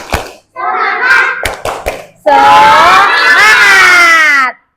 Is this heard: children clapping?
yes